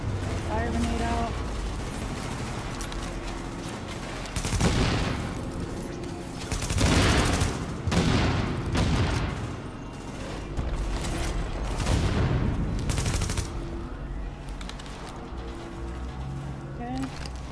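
Explosions and gunfire from a fire grenade in a shooting video game, with dense, rumbling blasts and bursts of shots filling the whole stretch at a loud level, and a voice speaking over the action.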